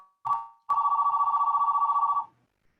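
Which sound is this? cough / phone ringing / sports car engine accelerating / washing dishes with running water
phone ringing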